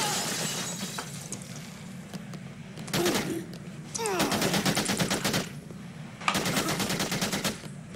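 Rapid gunfire in the video game Dead Rising 2, heard as loud bursts of automatic fire with sharp cracks and glassy shattering over a noisy game background, coming in several separate volleys.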